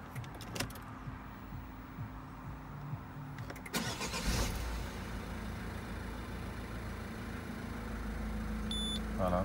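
A 2015 Citroën Berlingo engine cranks and catches partway through, then settles into a steady idle, with faint jingling heard early on.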